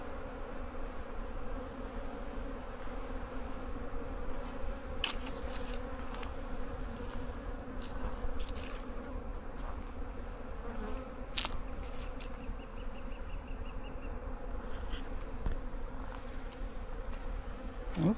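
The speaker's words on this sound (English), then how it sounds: "Got bees landing on me all over the place." Honeybees buzz all around in a beehive yard, a dense, continuous drone close to the listener with individual bees passing nearer now and then, and no talk.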